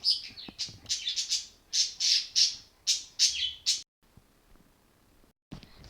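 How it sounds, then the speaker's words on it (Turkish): Birds squawk repeatedly in a quick, uneven series of harsh bursts, then go quiet before one more squawk at the end. "Arkadan kuş sesi geliyor."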